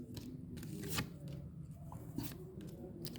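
Tarot cards being shuffled by hand, a series of quiet papery riffles and flicks in short bursts, faint and close with no talking.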